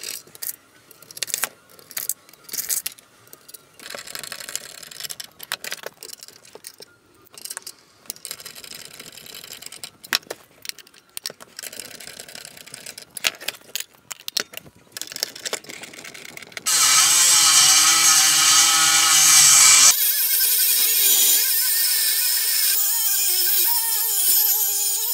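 Nuts are taken off metal shafts and the shafts are cut on an Iron Man exosuit mechanical build, with scattered metallic clinks and rattles from the parts followed by a loud, steady whine of a power tool cutting near the end.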